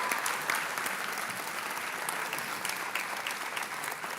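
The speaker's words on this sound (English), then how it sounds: "A round of applause for the AV crew." An event audience applauds the AV crew at an annual scholarship program, with steady, fairly distant clapping from a crowd that keeps up evenly for the whole stretch.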